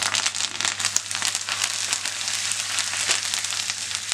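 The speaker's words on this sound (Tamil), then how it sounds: "இப்போ 2 இனுக்கு கருவேப்பிலை போட்டுக்கலாம்." Curry leaves crackle and sizzle in hot oil, a dense close spatter with sharp pops scattered over four seconds, and a low steady hum runs beneath.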